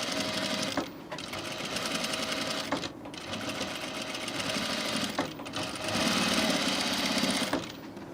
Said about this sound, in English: Now I'm just adding this top stitch.